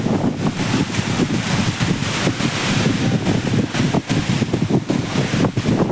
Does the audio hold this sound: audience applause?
no